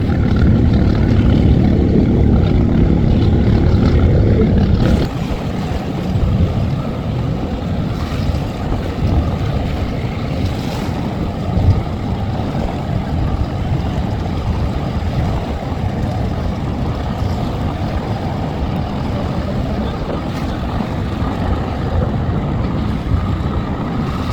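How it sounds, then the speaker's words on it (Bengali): A passenger launch arrives at a river ghat at Ilisha, Bhola, during the Eid travel season. A continuous low engine rumble and water wash are mixed with heavy wind buffeting on the microphone throughout, with no clear voices. "আর এদিকে দেখতে পাচ্ছেন কর্ণফুলি চার লঞ্চও চলে আসছে"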